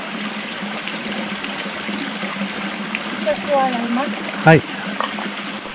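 Cold spring water at a Japanese shrine splashes and trickles over hands in a steady close flow, with a short louder splash near the end and people speaking briefly over it.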